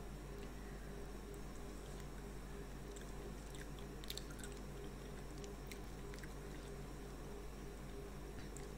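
Someone eats Kerala-style prawn coconut fry, with soft, faint chewing and small moist clicks close to the mic over a low steady hum, with no talking.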